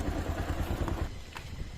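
A motorcycle rumbles and clatters along a rough off-road track, its engine close and steady under rattling jolts from the bumpy ground.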